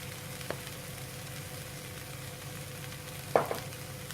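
Ground cumin, paprika and curry powders sizzling softly in a pan for sweet potato curry, a steady low hiss with a couple of spoon taps as they are stirred in.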